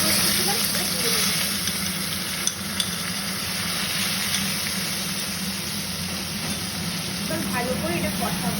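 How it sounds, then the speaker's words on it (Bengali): Cloves frying in oil in a pan, a steady close sizzle running throughout with faint stirring clicks and no break. "একটু ভালো করে ভেজে নেব।"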